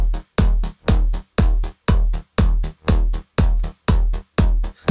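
Pulsing EDM bass-drop section produced in Cubase, with a heavy synth chord gated into a steady rhythmic chop of about ten punchy hits with deep low end, loud and alone.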